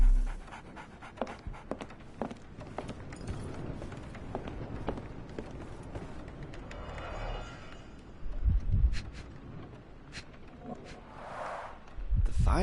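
A dog in Sherlock Holmes The Awakened pants rhythmically and quietly, accompanied by scattered footstep-like taps and a few louder thumps.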